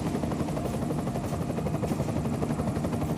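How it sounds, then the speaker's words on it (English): An enemy helicopter in the game Deus Ex: Mankind Divided gives off a steady, dense rotor thrum that stays level and fairly loud for the whole stretch, with no voices over it. "Enemy helo sighted."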